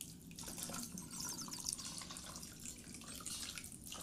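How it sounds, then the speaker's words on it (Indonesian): Boiled water poured over drained ingredients in a kitchen while making a chilled drink, a steady close splashing and trickling of liquid throughout, with no talk. "Setelah ditiriskan, ini kita siram dengan air matang."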